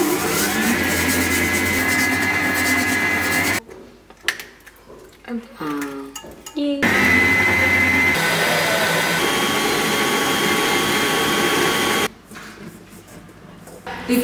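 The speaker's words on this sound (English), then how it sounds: "Beat sugar and butter with an electric mixer until smooth." An electric mixer beating sugar and butter runs as a loud steady whine, stopping for a few seconds, then resuming before cutting out again near the end, with clattering and movement in the pauses.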